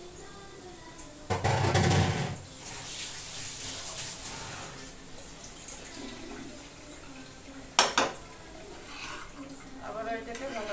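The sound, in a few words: stirring soaked flattened rice with egg in a pan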